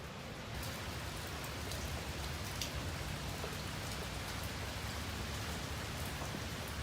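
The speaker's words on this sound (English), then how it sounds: "we're receiving some rain, so this is a good opportunity to see that the roofing panels are directing the water" Steady rain falls on roofing panels over an under-deck ceiling, a dense, even patter that holds close and loud for the whole stretch with no voices.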